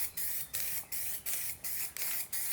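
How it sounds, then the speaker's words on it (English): Spray gun coating metal doors in dark brown and black over white primer, hissing in six even bursts of about a quarter second each, separated by short pauses, close and steady. "So I'm gonna spray them with a combination of dark brown and black."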